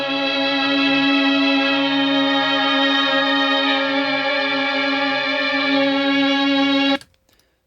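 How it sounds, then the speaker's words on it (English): A vintage mellotron virtual instrument with a strings sound and no reverb plays one sustained, steady chord for about seven seconds, dry and full, and then stops abruptly. "This time around, I'm using something that is known as the vintage mellotron,"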